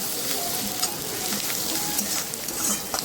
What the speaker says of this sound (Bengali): আদা পেঁয়াজ রসুনটা খুব ভালো মতো করে ভেজে নিচ্ছি, যতক্ষণের কাঁচা গন্ধটা যায়।